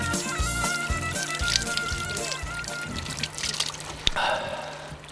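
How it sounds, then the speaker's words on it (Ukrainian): Mountain spring water in the Carpathians of Zakarpattia trickles and pours steadily close by, a continuous liquid babble with a sharp splash near the end. "Жива вода з Карпатських гір."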